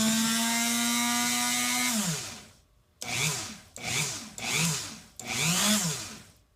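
A flex shaft rotary tool mounted on a 3D printer mills a PCB: a steady high motor whine winds down, then several short rasping cutting bursts follow, close and fairly loud.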